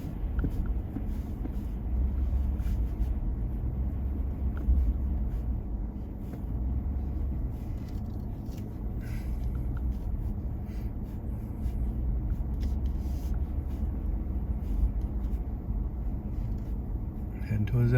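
A truck pushing through undergrowth on a snowy Maine mountain track, continuous low rumble and brushing scrape under the cab with steady engine noise, a voice talking over it.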